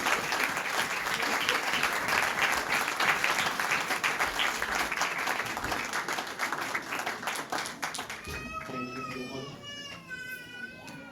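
Sustained audience applause fills a church Christmas gathering, dense and steady for most of the stretch before fading as a voice begins speaking over the dying claps.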